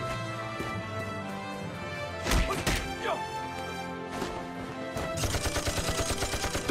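Gunfire in a wartime anti-Japanese resistance action drama: several sharp, loud shots crack out over a dense score, ending in a rapid rattling burst of fire.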